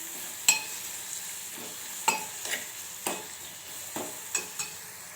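A spoon scrapes and taps against a pan while mango rice ingredients with green chillies are stirred, giving about six sharp, irregular clacks over a faint sizzle.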